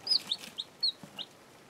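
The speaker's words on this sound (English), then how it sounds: "these are my chickens" Several baby chicks cluck and chirp in quick, irregular bursts close by, with a quiet background and no talking.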